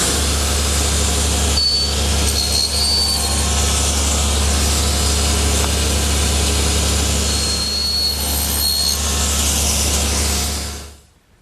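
Table saw running steadily as it cuts tenon shoulders on door rails for a Shaker washstand, a loud continuous motor whine and blade roar with brief dips as each rail passes through, winding down at the end.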